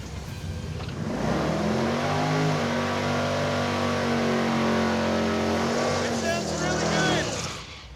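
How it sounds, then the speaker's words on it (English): A drag race car does a burnout at the drag strip, its engine roaring loud and sustained with a steady high-revving pitch for several seconds before dropping away, voices faintly underneath. "I predict a very, very rowdy burnout out of Mr. Freiberger right now"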